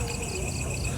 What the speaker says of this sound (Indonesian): Ah, kodok Cina lagi aja.